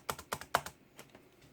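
Keystrokes tapped out on a computer keyboard while setting up partition mounting in Linux Mint: a quick burst of three or four crisp clicks, then a few softer, spaced taps, close up with no talking.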